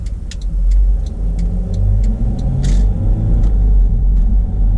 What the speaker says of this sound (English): let's take it for a test drive now and see how it's gonna perform.